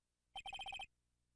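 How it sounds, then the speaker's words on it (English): A cell phone ringtone in the Phoenix Wright: Ace Attorney courtroom game sounds as a quick run of seven bright, evenly spaced electronic beeps, clean and alone against near silence, lasting about half a second. "what is wrong with this stupid sounding ringtone?"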